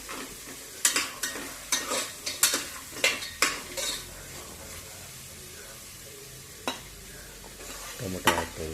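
Diced carrots with turmeric and salt cooking in a pan, a soft steady sizzle under repeated clinks and scrapes of a utensil stirring against the pan, with no talking.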